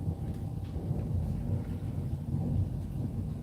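Low rumble of distant thunder rolling steadily, a continuous deep murmur with no clear crack, heard alone without talk.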